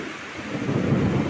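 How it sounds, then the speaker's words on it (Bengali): Thunder rumbles during rain: a deep, continuous low roll that swells slightly louder toward the end, close and heavy, with no voices. "বাবা, দেখেছি আকাশ কিরম ডাকছে।"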